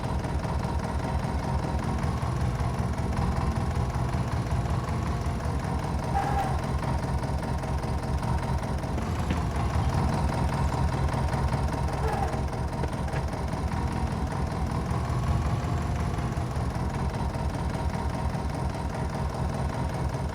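A farm tractor's engine rumbles steadily at close range while maneuvering around a trailer, a continuous low idle-like drone with small shifts in load and no clear talk.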